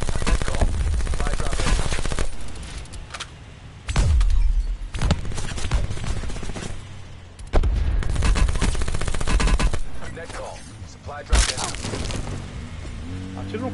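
Heavy gunfire in a shooter video game as players shoot at a car, repeated loud bursts of automatic fire with cracking and shattering impacts, interleaved with players talking.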